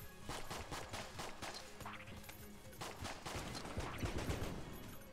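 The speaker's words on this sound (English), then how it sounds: "that's a fucking firecracker, not a stick of dynamite" Firecracker blasts and gunfire in the Enter the Gungeon video game, a rapid, dense series of sharp cracks and pops continuing through the stretch, louder toward the end, with no voices over it.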